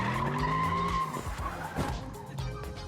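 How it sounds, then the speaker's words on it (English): A Ford Mustang skids out of control with loud, squealing tires over a droning engine whose pitch wavers and falls, all close and continuous. "it was actually a Mustang going out of control"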